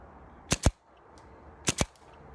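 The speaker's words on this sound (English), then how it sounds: "go ahead and get this slab gun chronoed" A Team Ironmen Autococker paintball marker fires over a chronograph in two quick double shots, sharp close pops separated by about a second of quiet.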